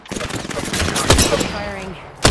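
Gunfire in the video game Apex Legends, a dense rattle of rapid shots mixed with other game effects, loud and close, ending in a sharp louder report, with a voice talking over it.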